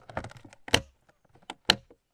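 Several sharp plastic clicks and snaps as a plastic storage box is closed, two louder latching clunks among lighter rattling handling noises, close by with no talking.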